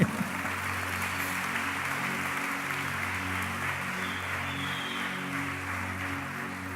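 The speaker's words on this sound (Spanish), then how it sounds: "Y denle un aplauso fuerte al Rey." A church congregation applauds for the King during a Spanish-language sermon, a sustained wash of clapping over a low droning tone, steady and moderately close throughout.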